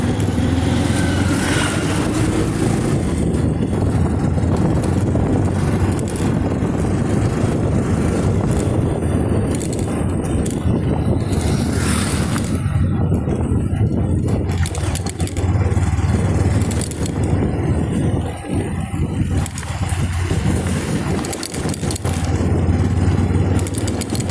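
A motorcycle engine drones steadily while the ride jolts and rattles over the potholed Nadala–Subhanpur road in Punjab, with wind rushing past the microphone throughout.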